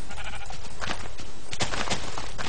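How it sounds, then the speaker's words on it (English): Sheep bleat in a Minecraft-style video game, several loud, close cries in quick succession. "come here, sheep!"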